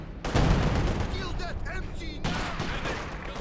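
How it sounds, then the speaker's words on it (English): ZiS gun artillery barrage in the Company of Heroes 2 video game, a dense roll of overlapping booms and crackling impacts, loud and continuous, with a commentator's voice talking over it. "Oh, good Zis barrage."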